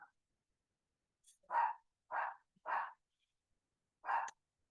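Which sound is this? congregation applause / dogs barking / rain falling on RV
dogs barking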